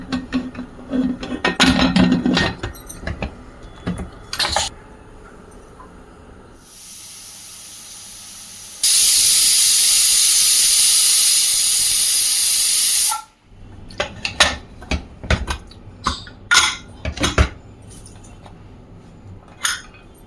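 Kitchen clatter and clinks give way to a loud, sustained steam hiss from a pressure cooker cooking mutton bone soup, rising to a sharp whistle before the clanking resumes.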